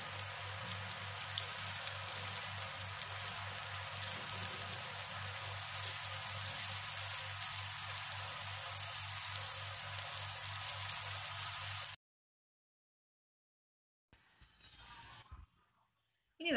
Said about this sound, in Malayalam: ഇനി ഇത് വേഗം തന്നെ നമുക്ക് എണ്ണയിലേക്കിടാം